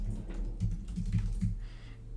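Computer keyboard typing while entering labels into a no-code dashboard builder, with a steady run of clustered key clicks and a few heavier strikes, close and moderately loud, with no talking.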